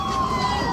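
A police car siren wails briefly from a distance, a steady tone held under street noise.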